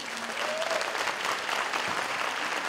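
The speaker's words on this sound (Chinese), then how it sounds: "我要借着大家的掌声来感谢" An audience at a company leaders recognition night applauds, a dense, sustained wash of clapping from many hands filling the hall, with faint voices mixed in.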